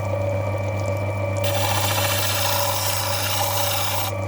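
Opal being ground on a wet 150 grit lapidary wheel gives a loud, steady abrasive rasp over a constant motor hum, running unbroken the whole time with no voices.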